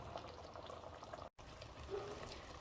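Samp and chicken curry simmers in an open pot, a soft steady bubbling and crackle of liquid cooking down, faint and close with no talking.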